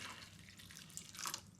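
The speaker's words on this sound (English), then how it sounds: "On top of those, I'm now going to add some water, and I want to add enough just to cover them over slightly" Water trickles and splashes into a wok holding black peas (carlins), a soft faint drip-and-pour that swells briefly near the end.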